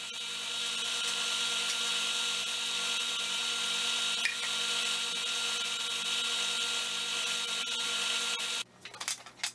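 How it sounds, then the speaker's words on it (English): A disc sander runs steadily and loudly for most of the span, chamfering the ends of scrap wooden dowels, with a brief shift near the end as the pieces come off the disc. "what I do is I just take it on this disc sander right here and I just sand a little chamfer on it"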